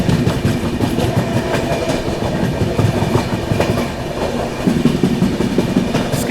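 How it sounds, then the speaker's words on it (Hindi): The Brahmaputra Mail express train speeds through Prayagraj Sheoki Junction without stopping, with a loud continuous rumble and rhythmic clickety-clack of wheels over rail joints heard from on board. "अपनी ट्रेन जो है स्किप करने जा रही है प्रयागराज शिवकी जंक्शन।"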